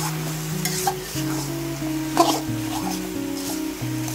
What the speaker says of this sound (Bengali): এভাবে নেড়ে চেড়ে মিশিয়ে দিতে হবে।